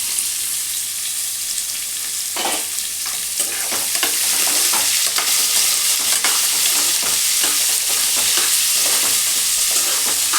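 Loud, steady sizzling of onions frying in a pan, with repeated scraping strokes of stirring throughout; no talking.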